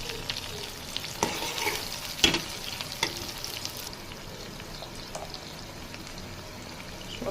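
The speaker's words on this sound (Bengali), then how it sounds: "প্রথমে এখানে আমি পেঁয়াজ আর টমেটো আগে একটু ভাজিয়ে করে নেবো লাল লাল করে" Onions and tomatoes fry in a pan for a rohu fish bhuna, making a continuous close sizzle with a few sharp stirring knocks early on, then settling into a quieter steady hiss without speech.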